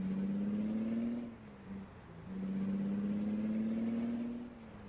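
An International truck engine in American Truck Simulator drones steadily up close, pitch rising slowly, dipping briefly around a gear change, then climbing again with a faint high whine above.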